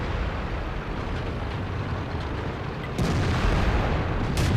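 Tank cannon in World of Tanks, a T-34 or Cromwell, firing with a heavy boom over constant rumbling engine noise, with a sharper blast near the end.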